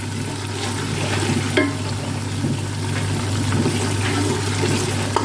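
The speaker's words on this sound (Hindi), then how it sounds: "अभी चिकन फ्राई हो गया है तो मैं इसमें चावल डाल रही हूँ।" Soaked basmati rice goes into a pot of fried chicken for Afghani pulao, giving a continuous close hiss and sizzle with wet stirring and pouring noises throughout.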